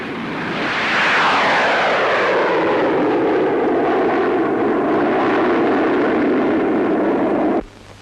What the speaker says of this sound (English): The Meteor, fitted with 2 Avon jets,